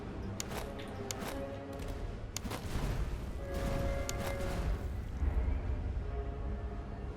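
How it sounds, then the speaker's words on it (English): Artillery and musket fire in a Seven Years' War real-time strategy game, scattered sharp booms and cracks at irregular intervals over a rumbling battle bed, moderately loud and somewhat distant, with no talking. "Now we'll start the artillery fire."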